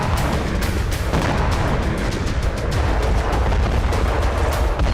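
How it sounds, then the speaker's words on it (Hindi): Anti-aircraft guns and missiles fire in a war zone, a loud, dense barrage of rapid shots and heavy booms that rolls on without pause. "एंटी एयरक्राफ्ट गन और मिसाइलों से प्रहार।"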